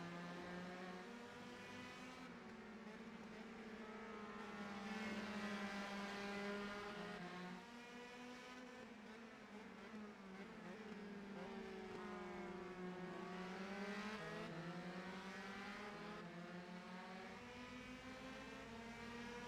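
Race cars in a racing video game at Laguna Seca roar through the corkscrew, their engine whine rising and falling through gear changes as several cars pass together, loud and sustained, with no talking.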